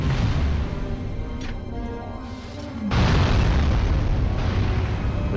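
A rocket explosion in the video game Destroy All Humans gives a sustained loud rumbling blast with a sharp new surge partway through, dense and close over continuous game noise.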